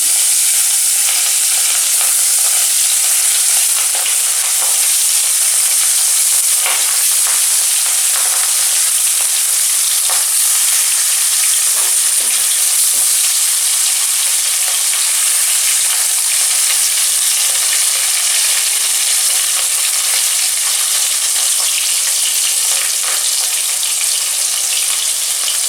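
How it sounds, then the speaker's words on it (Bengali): Aar fish frying in hot mustard oil in a wok, a loud, dense, continuous sizzle heard up close and unbroken throughout, with occasional faint scrapes. "তেল গরম হয়ে গেছে, আমি এবার কড়াইয়ে মাছগুলো দিয়ে দিচ্ছি।"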